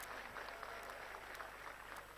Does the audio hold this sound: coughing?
no